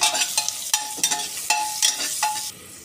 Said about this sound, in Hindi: ये हम डाल देते हैं जीरा और करी पत्ता, इन सबको भी अच्छे से हम थोड़ा सा फ्राई कर लेंगे।